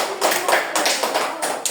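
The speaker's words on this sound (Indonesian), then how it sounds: "Oke, tepuk tangan untuk kelompok 2." A classroom of students claps for a presenting group in a brief burst of applause, several quick uneven rounds of hand claps, close and fairly loud.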